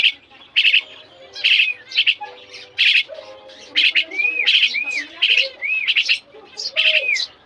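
Sparrows (maya) arriving to be fed give a lively series of sharp chirps and tweets, repeated bursts close by with short squeaky calls between, no talking.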